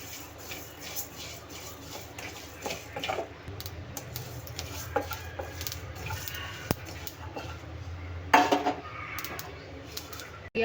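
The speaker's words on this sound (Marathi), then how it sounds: "आठ मिरे सहा लवंगा आणि विलायची चार आता हे मंद आचेवर छान आपण भाजून घेऊया" Whole peppercorns, cloves, cardamom and cinnamon dry-roast in a pan over low heat for crab curry, giving scattered light clicks, taps and scrapes against the metal. The sounds are quiet and close, with no talking.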